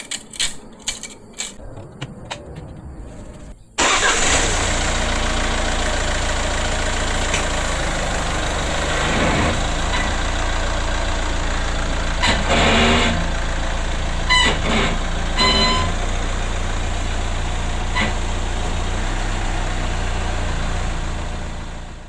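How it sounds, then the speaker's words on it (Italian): Nissan Qashqai J11 engine turns over and fires after a few faint clicks, then settles into a steady, close, continuous idle rumble during an oil and filter change. "ci fermiamo un attimo, accendiamo e facciamo entrare in circolo l'olio"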